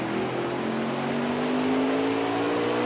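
A race car accelerating at Martinsville speedway, its engine a loud, continuous drone whose pitch climbs steadily as it pulls hard off the turn, with no voices over it.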